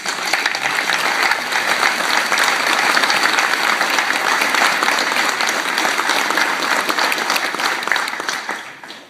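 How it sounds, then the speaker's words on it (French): Municipal audience giving local associations sustained applause, a dense, loud wash of many hands clapping that holds steady for several seconds before fading slightly at the end. "nous pouvons saluer leur travail en applaudissant les associations"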